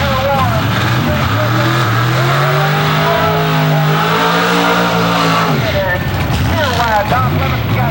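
Drag racing engines roar at an IHRA event, their pitch sweeping up and dropping as they rev hard, loud and continuous, while an announcer talks over them.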